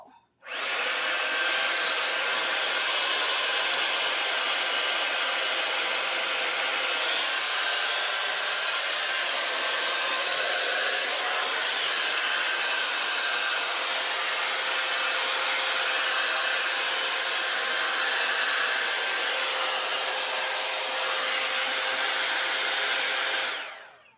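PureAirCurl hair styler with the wide pink attachment blowing air, a loud steady whooshing hum that runs unbroken for over twenty seconds before shutting off.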